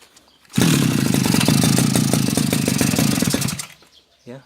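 A small two-stroke brush cutter engine, its carburetor being tuned, fires up and runs with a loud rattling buzz for about three seconds, then dies abruptly and falls silent.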